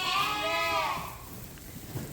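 A single sheep or lamb bleats nearby on a sheep farm during preparation for weaning, one wavering cry that fades out into quiet background noise.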